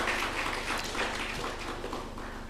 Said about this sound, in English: Let's have a big round of applause for Sukarya team.